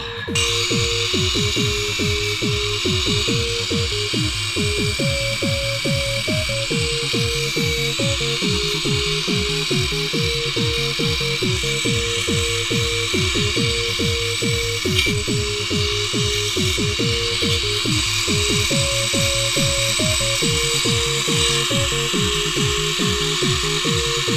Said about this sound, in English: let's pull out the old drill